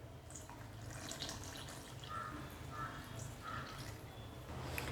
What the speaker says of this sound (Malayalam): ഇനി ഇതിൻ്റെ അത്രയോട്ട് കുറച്ച് വെള്ളം ഒഴിക്കാം